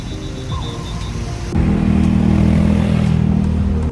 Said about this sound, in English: We're just in the back of a truck right now.